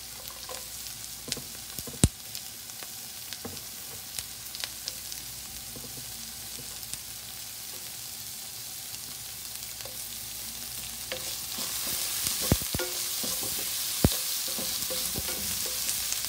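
Carrots sizzle in a hot pan with onions during a quick stir-fry, a steady broadband frying hiss with occasional sharp clicks and scrapes of stirring; the sizzle grows louder and brighter near the end.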